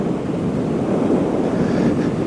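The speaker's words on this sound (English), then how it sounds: "It's a little bit windy." Wind blowing on a cold, roughly freezing day, a steady broadband rush and buffeting against the microphone, continuous and fairly loud, with no voices.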